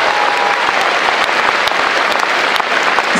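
A large audience at a Kremlin gala concert applauds a singer, a dense, continuous roar of clapping hands that stays loud and even throughout.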